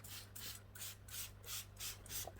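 Brush scrubbing sprayed cleaner over a car body, a series of rhythmic scratchy strokes about every half second, close and fairly quiet over a steady low hum.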